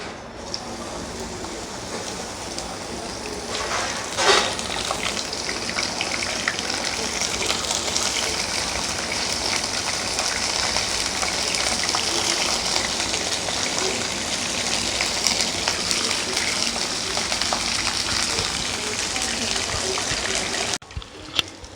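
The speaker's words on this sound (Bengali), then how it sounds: "অয়েলটা এবার গরম হয়ে গেছে, এবার আমি এগুলো ছেড়ে দেব।" Corn kernels fry in hot oil with a loud, continuous hissing sizzle that holds steady for a long stretch, close to the pan and cutting off abruptly at the end.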